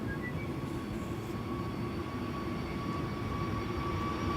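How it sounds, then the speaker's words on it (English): Sky Express Airbus A320neo jet taking off, a steady broadband engine roar with a thin whine riding above, loud and continuous throughout. "So this is Sky Express flight 8251, A320neo"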